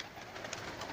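Fighter pigeons cooing and fluttering close by in Karachi, Pakistan, a steady murmur of birds with a busy background hum, no talking.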